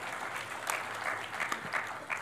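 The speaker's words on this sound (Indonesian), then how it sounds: "Sekarang tepuk tangan bagi Allah kita." A church congregation in Jakarta applauds with steady, continuous clapping, dense and fairly distant, with a few louder claps and crowd murmur rising through the wash.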